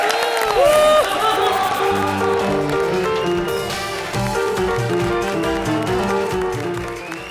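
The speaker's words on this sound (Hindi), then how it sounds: "उनके लिए भी एक बार जोरदार तालियां हो जाए" A studio audience at a televised comedy show applauds and cheers for the act's writer as he is called on stage, a dense, steady roar of clapping and crowd noise with music running underneath.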